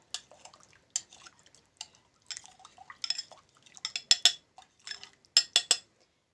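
Broth cubes are mashed into hot water with a spoon, making a series of light clinks and scrapes against the bowl. Short splashy stirring bursts come irregularly and grow louder toward the end.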